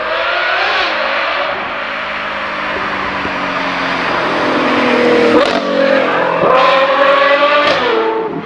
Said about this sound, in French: Ça, c'est un vrai V12 Ferrari